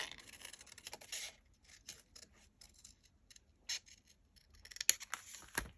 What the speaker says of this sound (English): I want to fussy cut these out because I want to fit them in and around the tree